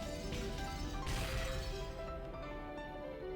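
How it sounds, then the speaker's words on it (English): In the Umineko visual novel, a short burst of crashing, shattering glass cuts through a steady background music track at moderate volume, with no voices. "there were loud beating sounds that might be called knocks"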